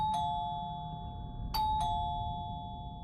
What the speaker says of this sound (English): But I also couldn't listen to the doorbell ring for 10 minutes.